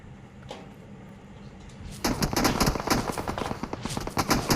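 Rapid cover-fire gunshots in a shooter game open with a single early shot, then break into a dense, loud burst of repeated automatic fire that lasts to the end.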